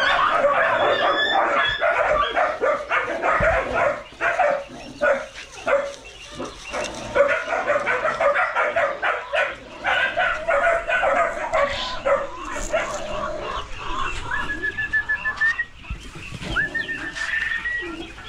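Several puppies yip and bark in a busy, overlapping chorus, close by and fairly loud, with whines and a few chirping birds in the background.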